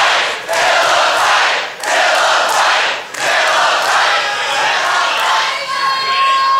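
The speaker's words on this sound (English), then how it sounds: "Sold out crowd here." A sold-out wrestling crowd roars and cheers loudly in a large venue during a street fight match, with swelling waves of noise that briefly dip and surge again.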